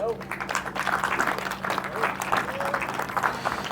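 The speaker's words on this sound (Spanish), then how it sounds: "dale un fuerte aplauso al Señor" A church congregation applauds to praise God during a Spanish-language Christian sermon, a steady wash of many hands clapping throughout, with voices mixed in beneath the applause.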